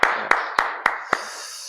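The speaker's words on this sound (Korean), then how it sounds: "한번 옆에 분 박수로 우리 한번 격려하도록 하겠습니다." A few hands clapping at an early-morning Advent prayer service in a church, five sharp separate claps at a slow, uneven rhythm in a reverberant room.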